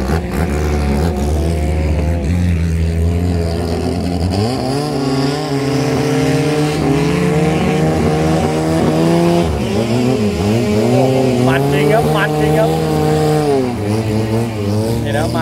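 Legendary racing boats roar past at the close of a boat racing event, their loud, steady engines rising and falling in pitch as they pass close by.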